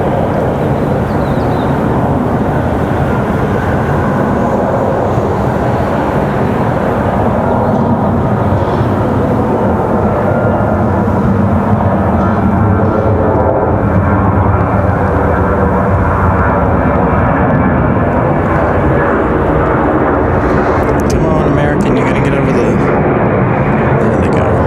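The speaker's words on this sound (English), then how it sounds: "Rapid fire departures. Another American 737 on the move." An American Airlines Boeing 737 jet departing Raleigh-Durham airport, its engine roar loud and sustained throughout, a broad heavy rumble that slowly shifts in tone as the plane climbs away, with people talking over it.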